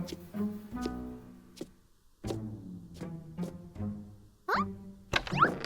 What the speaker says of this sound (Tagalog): May kumakatok ng paulit-ulit.